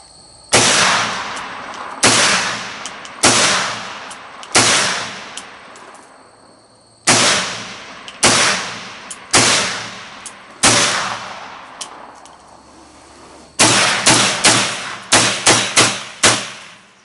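Gunshots from an Inland M1 Carbine rifle: about sixteen loud, sharp reports with short ringing tails, fired singly at first, then a quicker string of shots near the end, with no talk.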